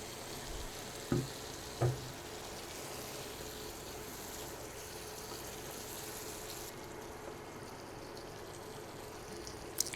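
Kebabs go into spiced gravy with oil separating in a pan, producing a steady soft sizzle throughout, with a couple of brief thuds near the start as they are dropped in.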